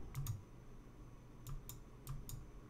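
Mouse clicks on the quit button of a Unity survival game's main menu, heard as a few sharp, light clicks in small pairs spaced across the moment, close and fairly quiet with no talking.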